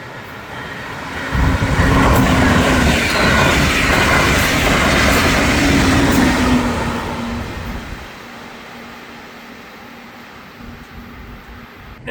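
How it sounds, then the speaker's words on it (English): A passenger train on the FEC line roars past at close range, a loud rumbling rush with rail clatter that builds quickly, holds, then fades to a low distant hum. "Looks like a passenger train's moving right along."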